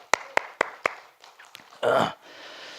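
Four sharp, evenly spaced claps ring out in a hospital health lecture hall, followed by scattered small noises and a brief rough burst before the room settles.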